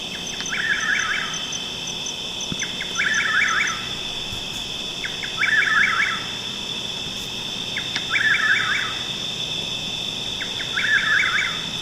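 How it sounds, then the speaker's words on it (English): A chuck-will's-widow calling repeatedly, its rolling three-part whistled phrase returning about every two seconds against a constant high drone of insects on a night-time backdrop. "That's a chuck-will's widow."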